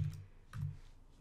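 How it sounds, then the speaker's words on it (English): A few quiet keystrokes tap on a computer keyboard, two soft clusters of clicks in an otherwise hushed room. "you can open the Windows menu and start typing Software Center"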